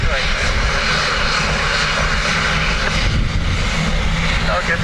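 A jet airliner arrives at Dublin Airport on a windy day, its engines roaring loud and steady throughout, with wind noise and air traffic control chatter mixed in.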